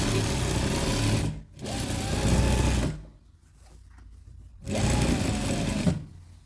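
A sewing machine stitches an elastic-fitted sheet in two loud, steady whirring runs broken by a brief stop and a quieter pause, close up with no voices.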